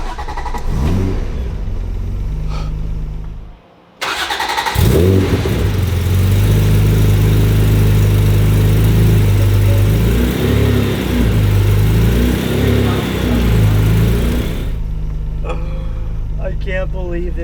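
The engine of a restored Honda NSX runs loudly close by, cutting out briefly, then rumbling and revving in rising and falling swells as the car pulls away, with people talking excitedly over it.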